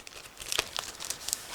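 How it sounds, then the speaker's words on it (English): A plastic bag holding decal sheets for an Eduard 1/48 Bf 109G-2 Profipack model kit is opened up close, giving quiet crinkling with several brief crackles and rustles. "We also have separate plastic bag with decals. So again, I'm going to open it right now."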